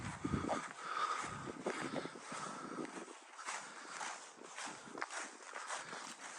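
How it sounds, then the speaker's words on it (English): Strong wind buffeting a microphone outdoors on a walk through a coastal nature reserve toward Rossall Point, a steady, loud rumbling roar that fills the whole stretch with gusty swells and no speech. "This wind's killing it."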